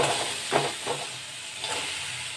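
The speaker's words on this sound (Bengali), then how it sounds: "কর্নগুলো যে ভেজেছি, সেগুলো আমি এবারে দিয়ে দেবো" Fried corn kernels tipped into a hot pan of oil and stirred for a crispy masala corn fry, giving a soft steady sizzle with a few brief scraping stirs, quiet and close with no talking.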